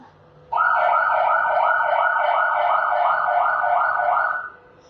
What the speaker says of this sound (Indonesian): Iya, bunyi sirene pemadam kebakaran.